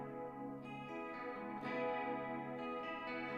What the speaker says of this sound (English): Screen reverb with light chorus is a request.